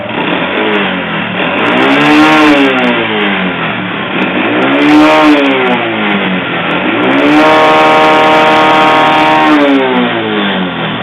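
A motorcycle engine that ran out of oil and puffs white smoke, revved hard in repeated swells that climb and fall in pitch, loud and close, with no voices.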